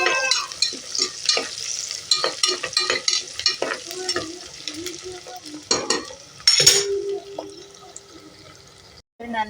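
Four broken green chillies frying in a pan, loud close sizzling and crackling with frequent stirring clatter, easing off toward the end, with talk in between.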